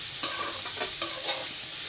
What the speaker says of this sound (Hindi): यहाँ पर हम अपनी कैप्सिकम को भूनेंगे ताकि हमारी कैप्सिकम पक सके